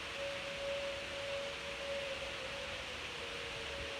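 A steady tornado siren tone holds a single pitch, faint and distant, dying down, sitting under a constant broadband hiss on a farm with no talking.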